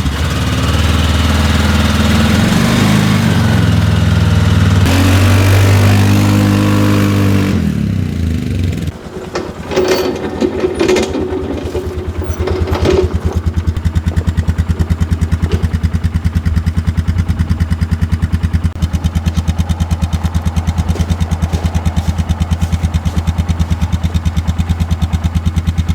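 Plow vehicle engine running close by, with loud mechanical rumbling and clatter early on, then settling into a steady idling drone with a persistent low hum; no speech.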